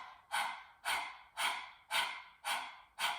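A person imitates a hot, thirsty chihuahua, panting with a breathing exercise that focuses on the exhale: six sharp, forceful exhales in a steady, even rhythm, close and loud, with short quiet inhales between them.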